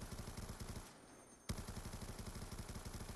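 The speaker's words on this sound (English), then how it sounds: "He's just using suppressive fire and just emptying his mag." Rapid machine gun bursts in the video game Call of Duty Black Ops 2, fired as suppressive fire to empty a magazine: a fast rattling stream that pauses briefly near the middle, resumes with a sharp crack and continues steadily.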